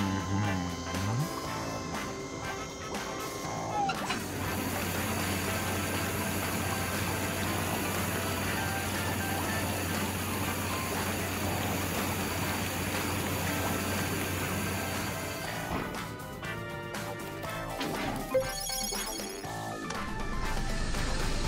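Steady rushing spray of water rinses a car at a car wash, running continuously with a mechanical hum underneath, then breaks off near the end into clattering and brief voices.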